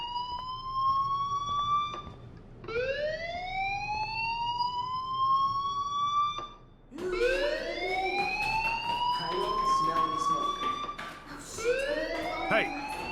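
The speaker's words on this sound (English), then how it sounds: "do you hear that fire alarm? That means you should be outside." A fire alarm sounds inside a school in the video game Life is Strange: a loud electronic tone that sweeps upward in repeated rising whoops, each held for a few seconds, with layered repeats overlapping in the second half.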